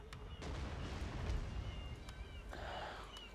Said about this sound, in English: First we bombard him once.